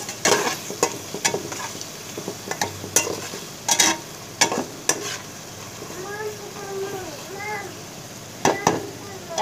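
Spices mixed into a cooking pot while making kabab biryani, with repeated sharp clinks and scrapes of a spoon against the pot over a low sizzle, and a voice faintly in the background.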